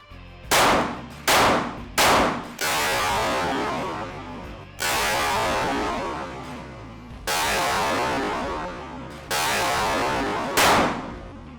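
A Glock 43X pistol fitted with a Radian Ramjet fires at a shooting range: loud, close gunshots, first three quick single shots, then several longer stretches of rapid, sustained fire.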